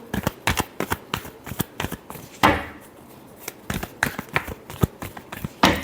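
Tarot cards being shuffled by hand, a rapid series of sharp, close riffling snaps with a brief pause midway before the shuffling resumes.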